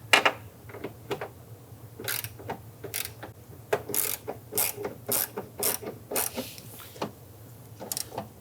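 A ratchet tightens a nut on the front exterior door handle of a 1999–2004 Jeep Grand Cherokee, giving close, crisp bursts of clicking in short irregular strokes with brief pauses between them.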